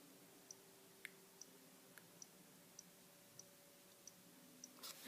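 Faint, evenly spaced clicks from a Chinese magnetic reed-switch alarm, about eight sharp ticks roughly every half second over a quiet hum, ending in a brief louder rustle.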